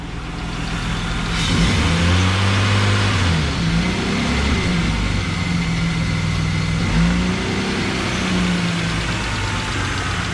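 BMW E34 beater car with a rev hang fault, engine idling then revving up repeatedly, the rpm lingering high and slowly falling back each time, loud and close with no talk.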